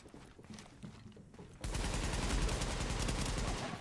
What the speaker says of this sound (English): The shots are registering really, really, really, really, really, really late.